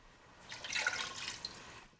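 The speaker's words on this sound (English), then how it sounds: "So I'm actually going to add a little bit of water." Water is poured into a pan of beef stew, a short soft hissing splash that swells and then fades over about a second and a half, quiet and close, with no talk.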